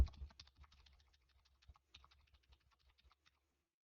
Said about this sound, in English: cycling through the arrow keys until maybe I'll find it.